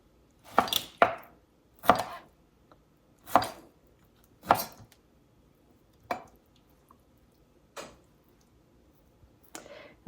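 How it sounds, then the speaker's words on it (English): A knife chops partly frozen pork into chunks with about eight crisp, evenly spaced strikes, roughly one every second or so, close and distinct against a quiet background. "And I just want to cut chunks."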